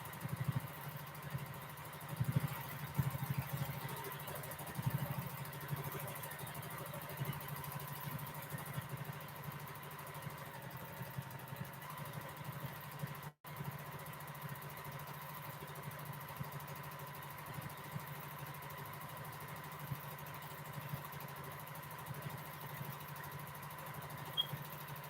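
Domestic sewing machine stitching quilted feather designs, a faint, steady mechanical whir running continuously with slight rhythmic variation and a brief dropout partway through, no talking.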